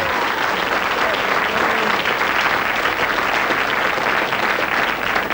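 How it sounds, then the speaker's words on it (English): An audience applauds a prize winner heading back to his seat, a steady, full burst of clapping from a sizable crowd that carries evenly throughout, with a brief spoken word at the start. "Give him a round of applause as he goes there."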